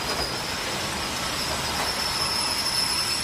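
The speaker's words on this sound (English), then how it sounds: "The train stopped and the driver's jumping down from his cab." A train rolls in with a steady rumble and high, drawn-out wheel squeal, a constant close wash of rail noise throughout with no voices.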